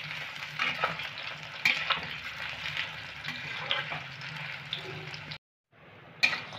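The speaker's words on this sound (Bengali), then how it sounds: "সয়াবড়িগুলোকে ভেজে নেব 3 মিনিটের মতো" Soya chunks fry in hot oil while being stirred, a continuous close sizzle broken by scraping stirs, briefly cutting out near the end before resuming, with a voice talking faintly underneath.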